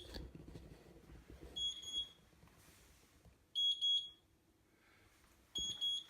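A kitchen tea timer goes off in short bursts of high electronic beeps, three separate groups spaced a couple of seconds apart over quiet room tone.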